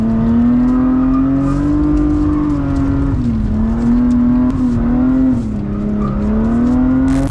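A BMW E36 engine, its idle problem fixed, runs loudly and steadily up close, its pitch rising and dipping slightly as the revs shift, with no talking.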